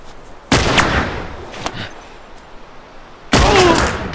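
Two loud, sharp gunshots from The Last of Us Remastered, one near the start and another toward the end, each with a ringing tail, plus a fainter bang between them.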